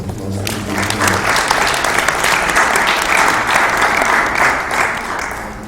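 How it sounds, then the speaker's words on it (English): An internet governance forum audience breaks into full, steady applause for the planning committee, a dense wash of clapping that holds for several seconds, with a voice briefly audible at the start. "Let's just give them a round of applause."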